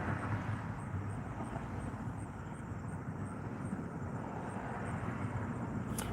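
A truck passes by outdoors, giving a steady, broad engine rumble and road roar that holds at a fairly constant level for about six seconds without talk.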